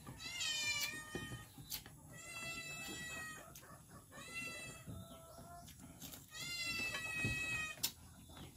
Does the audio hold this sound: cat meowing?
yes